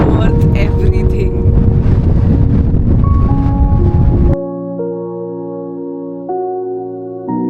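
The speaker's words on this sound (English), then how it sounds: "It's so windy" Heavy wind on Madeira buffets the microphone with a loud, broadband roar for about four seconds, then cuts abruptly to quieter steady tones.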